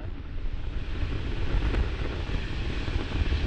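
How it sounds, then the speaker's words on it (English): An Atlas V rocket lifts off carrying the Curiosity Mars rover, heard as a broad, continuous roaring rumble with strong low-end buffeting like heavy wind, steady and loud with no speech. "liftoff of the Atlas V with Curiosity"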